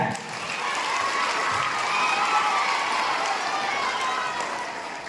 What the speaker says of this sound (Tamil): பலமா கைதட்டுங்க.